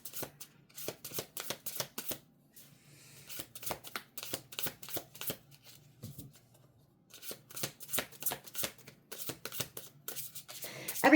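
Tarot cards are shuffled in quick riffling bursts, close and crisp, with short pauses between rounds of rapid flicking.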